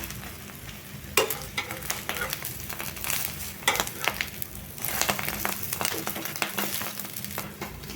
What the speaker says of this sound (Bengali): এই যে আলু ভাজা হয়ে গেছে, গোল গোল আলু ভাজা